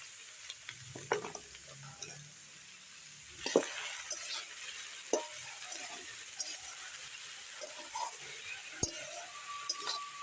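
Vegetables with salt, sugar and turmeric are stirred in a hot pan with beans, potato, aubergine and cauliflower, giving a steady close sizzle over which a spoon scrapes and clicks now and then.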